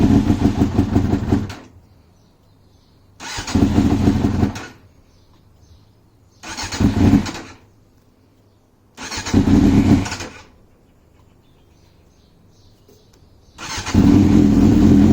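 Small engine cranking with the choke set halfway, five separate loud bursts of starting attempts with quiet gaps between, each sputtering briefly then dying.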